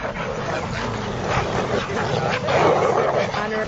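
A kennel of sled dogs being trained for the Iditarod barks, yips and whimpers in a dense, continuous chorus, with a voice mixed into the clamor.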